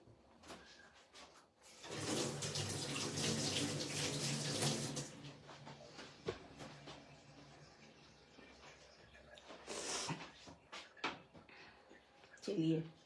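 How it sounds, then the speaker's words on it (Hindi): Hands washed under a running kitchen tap while making peanut chikki, a steady close rush of water for a few seconds, then drips and handling noises as someone speaks. "एक बार मैं हाथ धो रही हूँ।"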